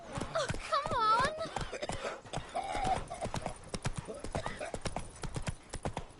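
Roach, a horse in The Witcher 3 video game, gallops with a rapid, steady clip-clop of hooves and gives a short whinny early on, while voices speak over the hoofbeats.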